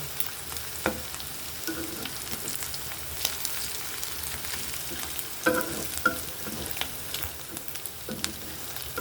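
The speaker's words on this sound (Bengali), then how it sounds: "পেঁয়াজটা আর একটু ভাজা ভাজা করে নেব তেলে দেবো তো এই জন্য একটু লাল লাল করে ভেজে নিচ্ছে" Onions frying in oil until reddish, ahead of a prawn and taro-leaf dish, make a continuous moderate sizzle with scattered spoon taps and a brief burst of stirring midway.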